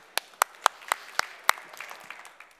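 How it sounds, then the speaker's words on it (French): A few sharp, evenly spaced claps ring out in a trade-show hall, then thin into scattered lighter applause from a small audience. "Vous pouvez l'applaudir, s'il vous plaît."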